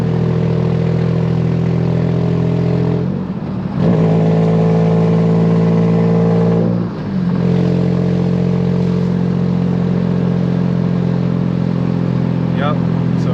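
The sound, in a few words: Nissan Maxima with swapped engine accelerating, leaking exhaust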